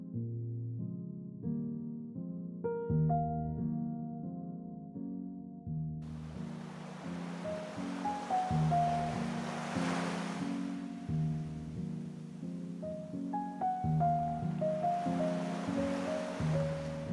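Sea waves wash softly around a sailing boat on the Blake Sea in the Second Life video game, a steady gentle surf under calm melodic music throughout.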